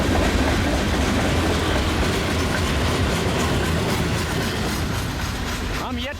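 CN L571 freight train with grain cars and Century locomotive power rolls past in snow, a loud steady rumble of wheels and clacking cars that carries on without a break.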